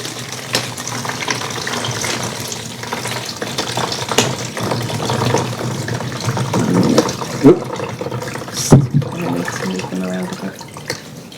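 Water poured from a kitchen tap or jug over salted food sitting in a sieve, a steady splashing rush running throughout with a few louder clunks near the end and no one speaking.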